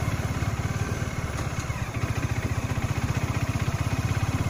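Bajaj Dominar 400 motorcycle engine running in third gear at a low crawl of about 25 km/h without throttle, giving a steady, close, rapid low thumping pulse throughout with no talk.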